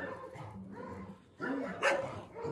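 Several rescued mountain dogs, led by Black Wolf, bark and yip in short bursts nearby, with a whimpering tone and a louder bark near the end.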